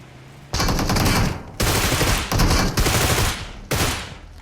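Automatic rifle gunfire from a Groza in a PUBG-style battle royale game, loud and close, coming in several long sustained bursts separated by short pauses.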